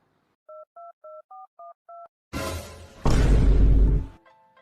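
A phone keypad sounds six quick dialing tones in a row, followed by a whoosh and a loud, booming burst of noise lasting about a second, then faint tones again.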